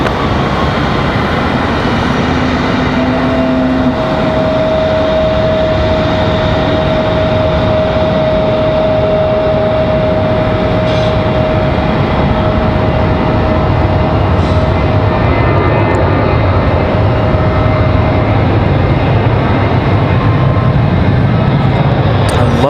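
Frontier airliner taking off from runway 23 left at Raleigh-Durham International at night, a steady broad engine roar building and holding for the whole stretch, loud and continuous with no pauses.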